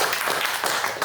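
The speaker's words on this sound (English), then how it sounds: "So, you can clap." A live show audience clapping, a short burst of dense, steady applause from a crowd, loud and close, with no one speaking over it.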